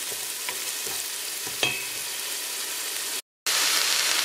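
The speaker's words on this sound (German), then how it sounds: "In einem Topf, der groß genug ist, dünsten wir zuerst mal die Zwiebel goldgelb an." Diced onion sautéing in a large pot outdoors, a dense continuous hiss and crackle with a couple of light utensil knocks, fairly loud and close, briefly cut off near the end before resuming.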